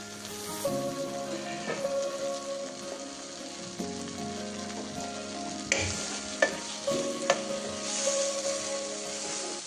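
Onions and tomatoes frying in a wok for a restaurant-style egg curry, a steady close sizzle with occasional stirring scrapes and clinks running throughout, no talking.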